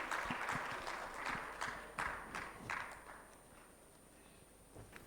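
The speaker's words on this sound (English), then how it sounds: "may we all please clap for him as he walks up to the stage" An audience at a microfinance tech summit claps as a speaker walks up to the stage, a fairly faint crowd applause in loose bursts that fades toward the end.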